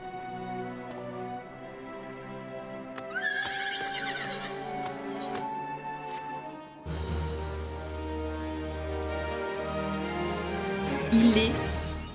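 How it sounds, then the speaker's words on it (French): A golden Kirin horse mount from Final Fantasy XIV neighs loudly with a long whinny over a sustained musical game soundtrack, with a few clip-clop and chime effects. "Il est magnifique, les amis. Ce cheval est incroyable."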